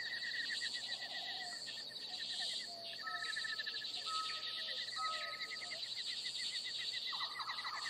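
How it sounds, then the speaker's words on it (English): Birdsong in a forest, with repeated chirps and short whistled calls over a steady insect-like buzz, fairly quiet and with no voices. "you notice the sound of birds chirping and the rustling of leaves as small animals scurry about"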